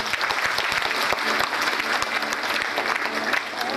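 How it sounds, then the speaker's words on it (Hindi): An indoor training-session audience claps together in sustained applause, dense fast hand claps close by, holding steady throughout with no clear speech. "एक बार अपने आप के लिए ताली हो जाए।"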